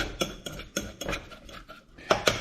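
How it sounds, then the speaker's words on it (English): A utensil quickly stirs avocado oil in a dish, giving a series of sharp clinks and scrapes in an uneven rhythm, close and fairly quiet with no talk. "We're going to quickly stir this."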